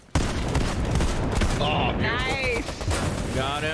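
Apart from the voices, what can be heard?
sniper gunfire in a video game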